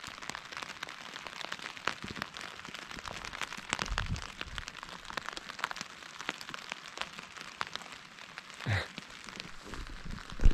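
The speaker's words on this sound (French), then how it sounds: "du coup on est sous la pluie. Voilà, il pleut." Steady dense patter of night rain drumming on a tent overhead while bivouacking in the mountains, close and continuous, with a few louder thumps and no voices.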